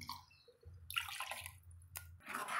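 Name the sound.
water being added to potato tomato kurma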